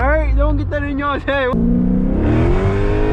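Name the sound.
engine revving, car with 392 muffler delete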